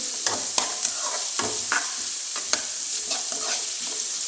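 Spices and curry leaves fry in hot oil for bassaru, giving close sputtering sizzle with several sharp crackling bursts and stirring scrapes over a few seconds.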